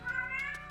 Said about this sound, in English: You can hear my cat in the background, Goku.